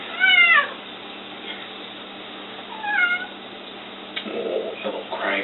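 A cat meows several times in a kitchen where chicken is being cooked, with one burst of meows near the start, another in the middle, and quieter sounds toward the end. No one speaks.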